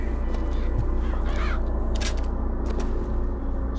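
Crows caw repeatedly in the BioShock Infinite video game, harsh calls over a constant low hum of game ambience.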